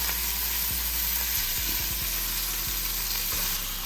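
Jamaican-style jerk oxtails searing in a pot, a dense continuous sizzle with occasional soft knocks and scrapes as they are stirred, close and steady throughout.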